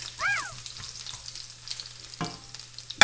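Garlic fries in a hot pan, a steady close sizzle with a few stirring scrapes and a louder burst near the end; no talking.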